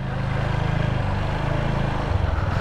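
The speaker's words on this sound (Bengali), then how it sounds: "ওয়াও, এর সাউন্ড দেখতে পাচ্ছেন বাইকের" A new blue Apache RTR 160 4V motorcycle idles close by, its single-cylinder engine putting out a steady, rapid low throb that rises a little near the end.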